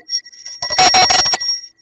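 A bright bell chime rings out, a short shimmering ding with a ringing tail, followed by a rapid burst of bell tones that fades out.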